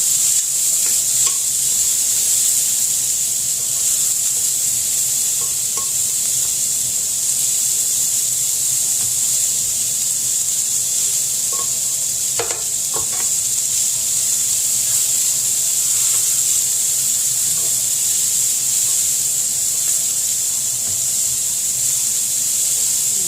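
Chopped onion and garlic sizzle steadily in a pan while being stirred, a loud, continuous frying hiss with occasional scraping from the stirring and no talking.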